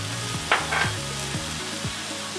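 Spices such as turmeric, red chili, ginger garlic paste, jeera powder and coriander powder frying in oil for North Indian chole, with a steady close sizzle, clinks of stirring and a few scraping sounds.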